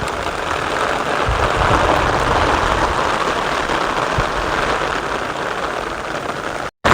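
Heavy monsoon rain drums steadily over a Gujarat village, a thick close hiss with a few soft low thumps and a brief cutout near the end.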